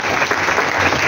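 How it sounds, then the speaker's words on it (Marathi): Steady applause from an audience at a Class 10 well-wishing day at a high school, honouring the teachers; dense, continuous clapping fills the whole brief moment with no break. "पुन्हा एकदा आपल्या सर्व शिक्षकांसाठी टाळ्या वाजवा"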